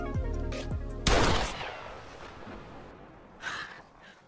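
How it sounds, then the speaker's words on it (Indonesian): A sharp, loud gunshot cracks and echoes away, preceded by a low rumbling drone, with a fainter bang a few seconds later. "langsung mengambil pistol dan berlatih menembak seorang diri"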